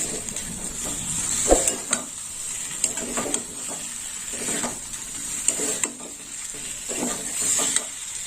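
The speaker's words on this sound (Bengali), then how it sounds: "এইভাবে বেগুনটা মশলার সাথে কষে নিতে হবে" Eggplant being stir-fried with spices in a pan gives a steady sizzle with repeated scraping and clacking of a spatula against the pan at an irregular rhythm, close up.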